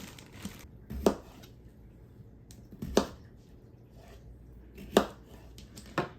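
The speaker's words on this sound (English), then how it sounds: "Cut up your potatoes" A knife chops potatoes for a Mississippi pot roast, five crisp, separate chops spaced about a second apart, close and fairly quiet, with no talk.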